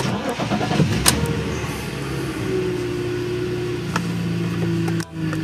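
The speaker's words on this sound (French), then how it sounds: "on va démarrer, on va voir si ça a réglé le problème." A car engine cranks and fires up after its injectors were cleaned and its error codes cleared, then settles into a steady, fairly loud idle that runs on for several seconds, with no voices heard.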